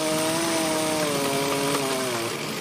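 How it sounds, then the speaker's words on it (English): Chainsaws cut through storm-downed trees south of Mitchell in Perth County, a steady close engine drone with a faintly wavering pitch and no talk. "From the sound of chainsaws to the sound of tractors pulling apart down trees"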